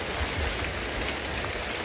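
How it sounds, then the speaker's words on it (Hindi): Steady, dense rain falls at a Mahadev temple in Mandvi, Gujarat, a constant close hiss with no talk. "और बारिश भी है"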